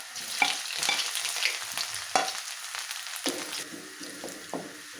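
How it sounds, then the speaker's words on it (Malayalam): Chopped garlic and ginger hit hot oil in a pan for chicken cutlets, a sharp crackling sizzle with quick stirring scrapes that settles into a softer fry. "ഇഞ്ചിയും കൂടി ഇട്ട് കൊടുക്കാം."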